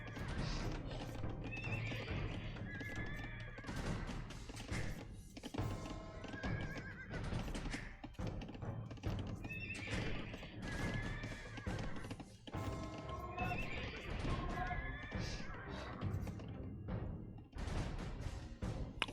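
Scout cavalry horses in the Age of Empires strategy game neigh and whinny repeatedly amid clopping hooves and game effects, fairly quiet overall, the calls coming in recurring bursts.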